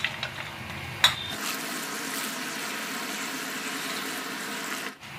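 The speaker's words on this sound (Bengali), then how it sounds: "তো এইগুলোকে আগে ভালো করে আমি ধুয়ে নেব।" Greens, Malabar spinach leaves, being rinsed under a running kitchen tap, a steady close wash of water splashing with a brief clatter at the start, alone without talk.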